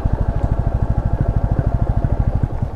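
A motorcycle rides over loose stone chips on a deep forest road, wheels skidding; its engine throbs close and loud in a fast, even pulse throughout.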